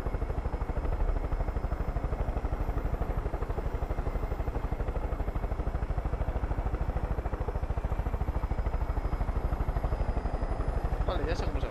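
Helicopter in the video game Far Cry 5, a steady loud rotor chop with a dense, continuous engine whine that holds for the whole stretch without letup.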